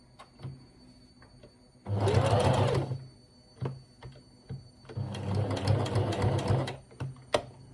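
Sewing machine stitching a wool coat collar, running in two distinct bursts of rapid mechanical whirring separated by quiet pauses and small clicks, close and clear.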